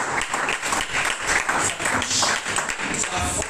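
A church congregation applauds and cheers after a sermon passage, bursts of claps rising and falling together for a few seconds, close and full.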